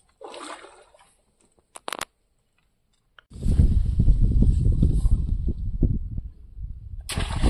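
A crab trap is thrown into tidal creek water at Shrivardhan during crab fishing, landing with a splash followed by several seconds of loud sloshing and churning water, after a few faint knocks.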